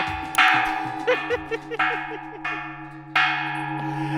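Bright notification-bell sound-effect tones ring out one after another over a steady hum and a faint ticking pulse, each strike left to resonate and fade.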